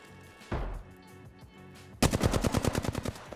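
Gunfire in the video game Apex Legends: a single loud shot, a short pause, then a rapid automatic burst of about a dozen evenly spaced close cracks.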